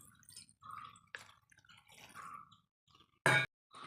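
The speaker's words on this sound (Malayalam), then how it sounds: "ആവശ്യത്തിന് വെള്ളം ഒഴിച്ച് കൊടുക്കാം." Water poured into a pot of pumpkin curry, a short loud splashing burst near the end after scattered soft drips and clinks, close by.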